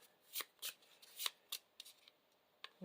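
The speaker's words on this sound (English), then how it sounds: "Gonna have to shuffle my deck" A deck of game cards being shuffled in a series of crisp riffling bursts, quiet and close, with short pauses between them, during a Marvel Champions card game session.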